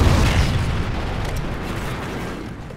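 A Trinity rocket explodes in the video game Call of Duty Ghosts, a loud, deep booming blast that rumbles and slowly fades over a few seconds.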